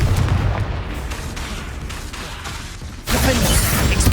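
A fiery Confringo spell in Hogwarts Legacy erupts loudly after a stretch of rumbling combat noise, bursting into a dense, sustained explosive blast.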